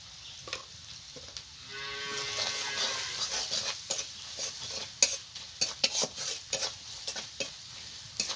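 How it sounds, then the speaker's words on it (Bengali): Sliced onions fry with salt and turmeric in a pan of hot oil, a continuous close sizzle that swells and then carries a run of quick scraping stirs and light clinks toward the end. "পেঁয়াজটা আমার ভাজা হয়ে গেছে"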